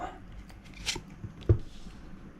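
Tarot cards being shuffled close by, a few soft riffling flicks and a sharp tap, quiet and brief with no speech over it.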